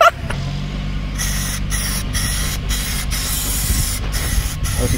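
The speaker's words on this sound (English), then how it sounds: "you can have one of these spray gun things" A spray gun sprays paint onto a go-kart body in a continuous loud hiss, broken by several short pauses between passes.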